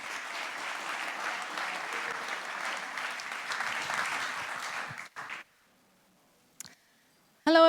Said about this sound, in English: please give a warm applause to Felienne